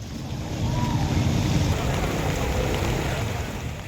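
Strong floodwater rushes across a flooded road in Samarinda, a broad continuous roar mixed with wind noise on the microphone and faint voices underneath.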